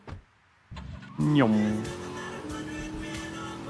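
A car in the video game Vice City starts up with a rising engine rev, then settles into a steady hum, with a brief voice over it.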